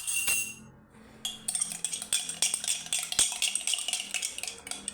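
Coffee and clove mixture being beaten in a bowl, making a fast run of rhythmic clinking and scraping strokes of a utensil against the bowl, close and fairly loud after a brief pause.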